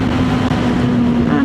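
A Benda LFC700 motorcycle pulls hard under acceleration during an overtake on the road, a loud steady engine drone with wind rush, the note holding and rising slightly over a second and a half.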